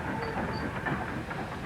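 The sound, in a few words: steam locomotive moving forward into a siding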